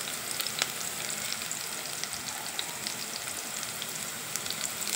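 A few green chillies fry in hot oil for idli and dosa seasoning, a dense steady sizzle with fine crackling pops, close and continuous throughout.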